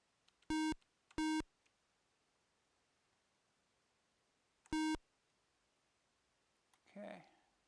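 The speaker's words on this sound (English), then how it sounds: "Beep, beep." An Amstrad computer game gives out three loud, sharp electronic beeps, the first two close together and the third after a pause, over near silence, with a short burst of speech at the end.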